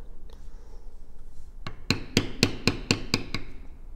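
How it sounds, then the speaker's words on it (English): A hammer strikes a metal beveler against leather during tooling, about nine sharp, evenly spaced taps close by after a quiet start, no voices. "We're just going to bevel that out each direction."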